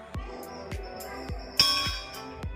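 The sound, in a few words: temple bell ringing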